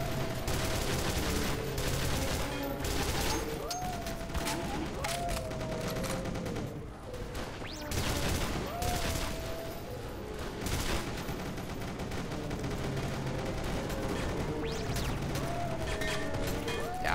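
Sustained rapid minigun fire in E.Y.E. Divine Cybermancy, with long loud bursts and mechanical clatter that drop out briefly before resuming.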